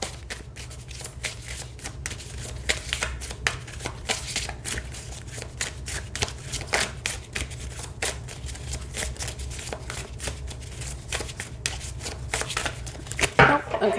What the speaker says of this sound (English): It's only 32 cards, so it's gonna, not be such a fantastic shuffle.